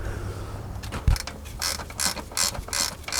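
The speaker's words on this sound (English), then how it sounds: "And let's tighten up our bolts here." A ratchet tightens bolts on a car's timing belt tensioner, giving short bursts of close clicking strokes with small mechanical creaks between them.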